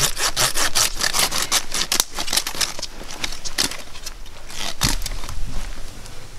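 Hand saw cutting through logs being trimmed for a log cabin, a steady run of rapid rasping strokes close to the microphone with brief pauses, no talking.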